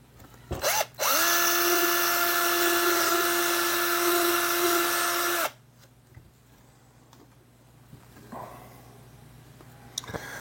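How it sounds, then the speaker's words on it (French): A power drill bores a new hole, one loud high-pitched whine held for about four seconds, then stopping, leaving quiet handling noises and faint clicks. "Donc, on va percer 2 nouveaux trous."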